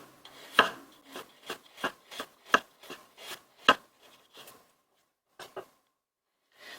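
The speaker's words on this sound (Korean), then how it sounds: "생강을 얇게 썰어서 그 초생강 만들어줄 거 준비를 할 거예요" Knife slicing ginger thinly on a cutting board for pickled ginger, a run of about ten crisp cuts in steady rhythm, then a pause and two more cuts, close and clear with no talk.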